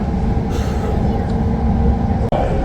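Steady rumble of a moving train on a ride through Shenzhen, a constant loud low drone with a brief dropout near the end and no one speaking.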